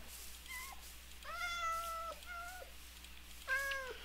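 A cat in Minecraft Bedrock meows several times, short clear electronic-sounding mews spaced out over a few seconds with a low background hum, the last one slightly louder.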